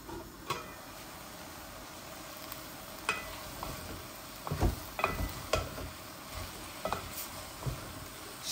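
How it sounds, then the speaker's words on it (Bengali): Minced chicken cooking slowly in a pot, a quiet low sizzle with occasional soft clicks and stirring knocks scattered across the stretch. "কিমাটা আস্তে আস্তে বোনা হোক।"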